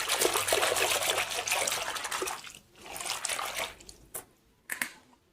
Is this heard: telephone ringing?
no